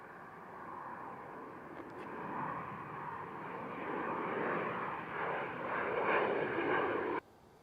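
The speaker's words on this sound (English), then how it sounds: "we got a Cessna Citation Longitude here for NetJets taking off." A NetJets Cessna Citation Longitude business jet roars through its takeoff run at an airport, a broad rushing engine noise swelling gradually louder then cutting off abruptly at the end, with no talking.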